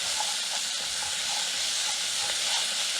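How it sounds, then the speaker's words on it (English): Garlic sautés in a pot, giving a steady, even frying hiss that holds constant without pauses for a few seconds. "Now we're going to add the garlic. And we're going to let that cook and saute for about 30 seconds or so."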